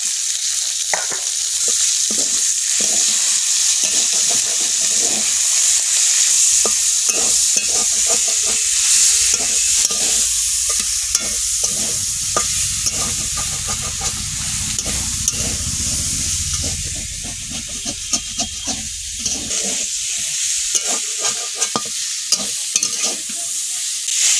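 Boiled garlic and chopped tomatoes fry in a pan for a potato and fish dish, giving a loud, continuous sizzle with frequent stirring scrapes and clatter close by.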